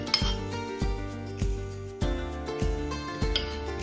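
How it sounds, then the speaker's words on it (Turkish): Metal utensil strikes against a bowl in a regular clinking rhythm while melted chocolate and butter are mixed with eggs for a brownie cake, bright close taps with ringing overtones and no talk. "Bunu yumurtayla beraber karıştıracağım."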